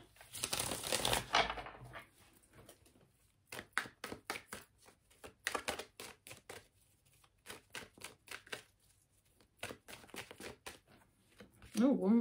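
Quick bursts of card shuffling riffle and flutter close by, several separate shuffles with short pauses between them, and a voice speaks briefly.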